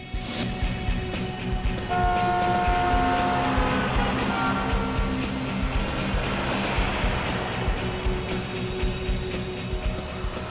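A car drives along while trailing another car, giving a steady, fairly loud rush of engine and road noise with a faint sustained tonal hum early on and no voices.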